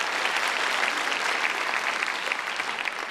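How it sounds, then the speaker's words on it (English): Applause from an audience at a finance talk with an entrepreneur crowd, steady and dense, a continuous wash of many hands clapping at even loudness throughout. "that deserves some applause"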